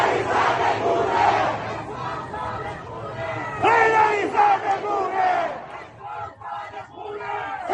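A large crowd chants in unison at a street protest in Tehran, rhythmic shouted phrases rising and falling in loud waves with scattered voices between.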